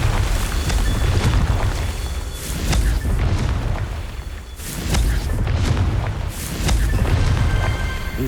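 Fiery Confringo spell blasts from Hogwarts Legacy on PS5 burst out as a series of loud, deep booms, about five or six of them rolling in close succession over continuous rumbling game ambience.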